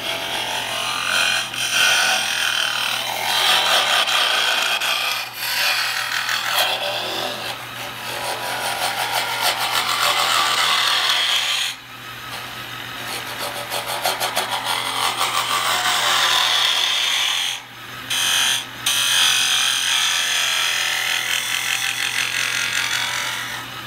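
Turning tool cutting wood on a lathe, a steady broadband scraping and hissing that runs continuously with brief pauses and shifts in tone as the cut changes, over a low constant motor hum.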